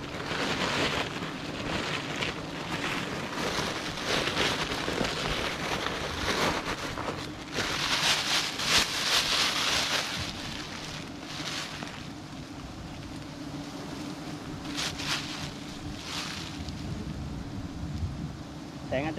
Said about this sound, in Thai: เพราะว่าฝนมาแล้วนะครับ